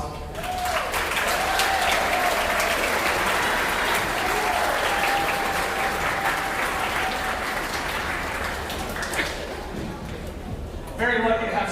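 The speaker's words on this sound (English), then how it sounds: "Students, can you please give your parents a round of applause?" Sustained audience applause at a school band spring concert, loud and dense for about ten seconds with a faint tone beneath, then tapering off near the end.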